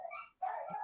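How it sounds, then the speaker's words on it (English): A dog gives two short barks close by indoors, a brief yelp followed by a longer bark after a short gap, with no talking. "Sorry about the dogs."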